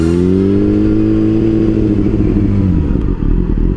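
A Yamaha FZ6 Fazer, a 600cc four-cylinder motorcycle with about 110,000 on the clock, revs loud and close: a sustained engine note that sweeps down, then settles into a rough, clattering idle.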